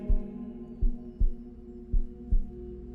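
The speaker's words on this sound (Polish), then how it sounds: "Serce bije spokojnie." A slow, steady heartbeat thumps close and low, five soft pulses over a faint hum.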